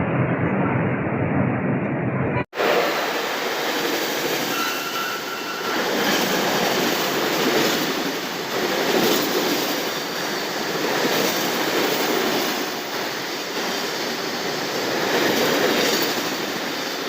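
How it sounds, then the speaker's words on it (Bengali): A train pulls into a railway station platform on a trip around Kolkata, its steady rolling rumble and rail noise filling the scene close by, with a brief sharp break near the start and faint voices mixed in. "কোথা দিয়ে আসছে ট্রেনটা?"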